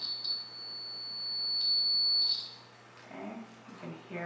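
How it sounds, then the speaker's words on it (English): A small alarm buzzer in a simple electric circuit lets out a thin, piercing steady tone, breaking briefly then resuming before cutting off, followed by soft handling noises nearby. "you can hear the little alarm sound"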